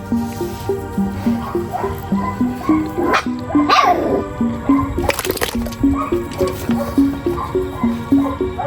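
Presa Canario dogs bark in a steady, repetitive rhythm, several barks per second, with a few sharper yips and noises mixed in nearby.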